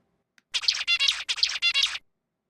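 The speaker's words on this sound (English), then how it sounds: "This is a zebra finch song." A small bird sings a fast, buzzy run of rapid syllables in two quick bursts, high-pitched and close, surrounded by silence.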